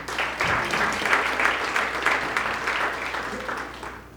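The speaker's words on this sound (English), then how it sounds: "Let's give a clap," Gala dinner audience at a chamber of commerce event applauding, dense steady clapping from many people at moderate distance, sustained for about four seconds with slight swells.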